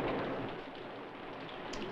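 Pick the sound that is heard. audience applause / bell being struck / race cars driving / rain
rain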